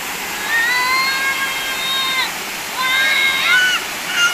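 Clear water pours steadily over Balite/Arangin Falls, a constant close rushing roar with thin high whistling calls drifting over it.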